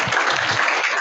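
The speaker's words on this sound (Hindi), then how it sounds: "सही जवाब के लिए आप लोग तालियां बजाइए" Brief burst of dense audience clapping at an Indian inter-college quiz gathering, a steady wash of many hands for about a second, close and loud with no speech over it.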